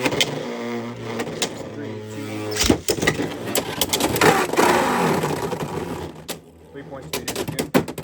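Beyblade X tops Bahamut Blitz and Meteor Dragoon clash and grind in a plastic stadium, a close, dense whirring rattle with sharp impact clicks, with a voice talking at the start.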